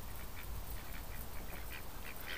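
Ducks quack repeatedly in a yard, a run of soft, fairly distant calls over steady background noise with no talking.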